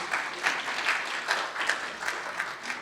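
Audience at a university forum on physician-scientist training gives a round of steady applause, moderately loud and continuous with rhythmic peaks, no talk over it.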